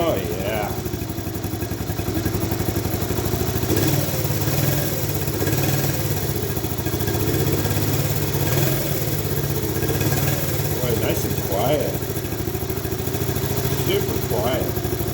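A Honda ATC70 engine fitted with a CT70 coil runs at a steady, close, even idle, its low rumble and light clatter continuing throughout.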